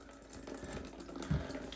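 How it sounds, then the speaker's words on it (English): Water gushing hard from a disconnected toilet supply line into a collecting container, a steady broadband rush that swells slightly near the end, with no talk. "And now you can see that water is flowing hard."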